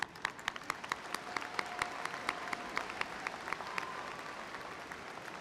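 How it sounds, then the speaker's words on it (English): A seated audience at the W. W. Samuell High School 2017 graduation breaks into applause, a broad, even patter of many clapping hands with sharper individual claps standing out, heard from a distance and fairly quiet, with no talking over it. "That deserves a round of applause."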